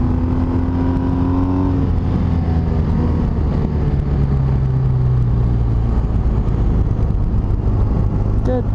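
A BMW R1250RS motorcycle engine drones while riding along a country road, steady and close under constant wind rush. Its pitch sags and shifts a couple of times as the throttle changes.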